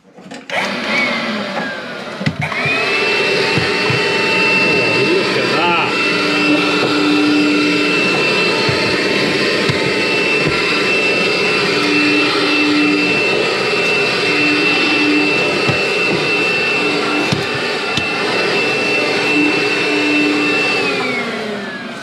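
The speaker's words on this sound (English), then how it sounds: "I've just watched an electrician hoover a cupboard out for 30 seconds" A domestic electrician's vacuum cleaner hoovers out a cupboard: a loud, steady whining drone switches on after a couple of seconds and runs unbroken to the end, with no talking.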